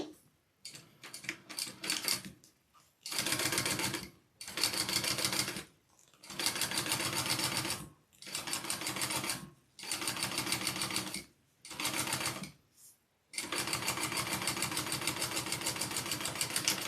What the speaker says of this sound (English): we're going to top stitch through that